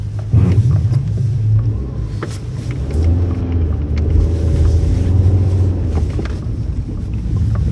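A car on Bridgestone Blizzak WS90 winter tires brakes on a snowy road, heard as a steady low road rumble with wind buffeting, recorded from inside the moving vehicle.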